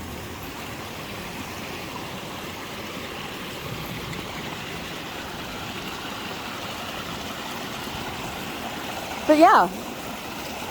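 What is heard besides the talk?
rushing water of a stream after rain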